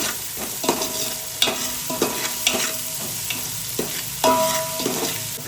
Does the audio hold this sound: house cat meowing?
no